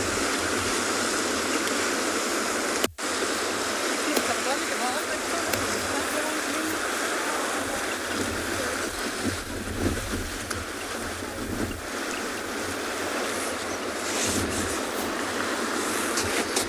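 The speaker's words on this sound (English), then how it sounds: "Can hear the wind coming through my mic." Wind buffets the microphone at a penguin beach with a constant loud, rough rumble and rushing noise throughout, with one sharp click early on.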